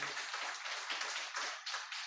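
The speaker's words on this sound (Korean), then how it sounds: "박수 한번 보내주시기 바랍니다" Congregation at a church prayer meeting clapping in a dense, steady round of applause, fairly close and sustained for the whole stretch, with no voices over it.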